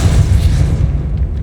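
A Depulso spell cast in Hogwarts Legacy unleashes a heavy, booming blast that fills the moment and fades quickly.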